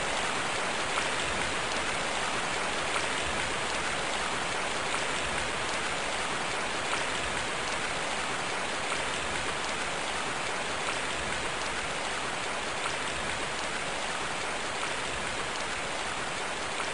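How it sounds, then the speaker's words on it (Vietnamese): Heavy rain with strong wind pours down as a dense, steady, loud hiss of drops that stays continuous and unbroken throughout. "Tiểu Trương, bên ngoài mưa to gió lớn"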